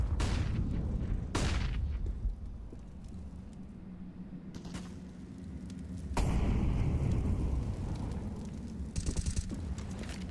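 Grenade explosions in Counter-Strike: Global Offensive during a professional ESL Pro League match, several sharp blasts and bursts at intervals amid gunfire and ambient rumble, with a loud sustained eruption midway.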